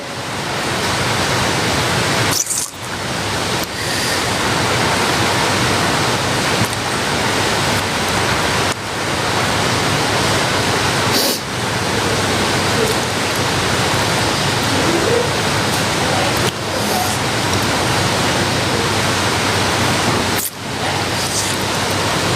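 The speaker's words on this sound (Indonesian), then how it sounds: "Iya hujan." Heavy rain falls in a dense, continuous roar, loud and close, with brief dips in level every few seconds and no voices above it.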